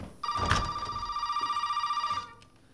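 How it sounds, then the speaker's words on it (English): An old-style telephone bell rings in Resident Evil 7, a single sustained rapid trill lasting about two seconds, loud and close. "I always love it when I hear the phone ring in this game"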